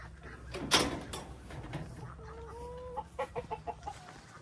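Several chickens cluck and murmur nearby, with a sharp scrape early on and a quick run of short clucks toward the end.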